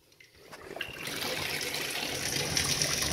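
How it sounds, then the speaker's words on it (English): Tap water running into a bathtub, a steady broadband rush that swells from a quiet trickle to a full, even gush and keeps pouring. "It might freak him out to have the water back on"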